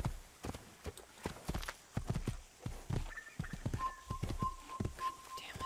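A horse gallops in the video game Assassin's Creed, with rapid, rhythmic hoof clops close by and a faint high whistling tone in the background.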